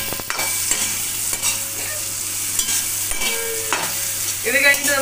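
Ingredients for a quick pickle get sautéed in a pan, giving a steady sizzle under repeated scraping and stirring strokes and a few metallic clinks, with a low hum in the background.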